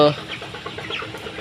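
27-day-old chickens cluck softly in a short burst of low, busy chatter, fairly close, with faint background hum.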